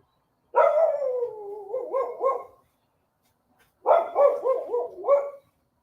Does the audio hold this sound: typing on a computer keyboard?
no